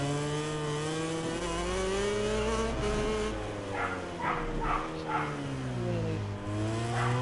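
Motorcycle engine in the MotoGP 19 video game during a Spanish GP race, a steady high revving drone whose pitch rises and falls with gear changes, continuous and prominent, with a short spoken word over it.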